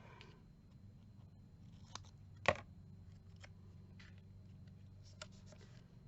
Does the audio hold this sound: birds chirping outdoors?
no